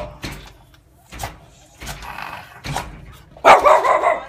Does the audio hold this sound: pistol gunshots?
no